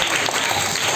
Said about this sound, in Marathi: ओंकारसाठी जोरदार टाळ्या वाजवा